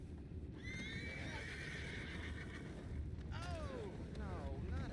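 Horses in Red Dead Redemption 2 give two clear whinnies, one long and one shorter, over a low, steady rumble of hooves and outdoor ambience.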